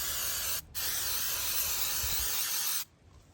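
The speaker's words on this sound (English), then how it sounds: "my top is messed up, my nozzle or whatever. But you see how easy it sprays up" Aerosol can spraying paint onto shooting targets through a faulty nozzle, one continuous close hiss of about two seconds after a brief start burst, then quiet.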